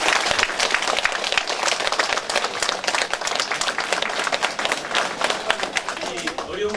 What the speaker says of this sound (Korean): 수고 많이 하셨다고 큰 박수로 좀